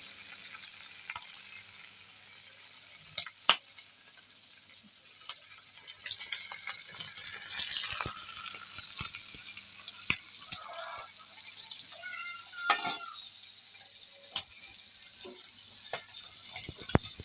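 Pieces of rohu fish frying in oil as they are turned over: a soft, fairly quiet sizzle with scattered sharp clinks and scrapes of a utensil against the pan, no talking.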